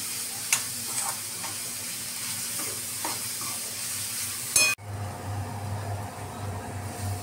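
Onion and chilli mixture sautéed in a pan for smoky aubergine bharta, with soft stirring and scraping over a low frying sizzle that carries on steadily, the texture changing partway through as a deeper hum takes over.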